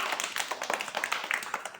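Quick, light claps patter unevenly from a small group, faint and somewhat distant, lasting a couple of seconds.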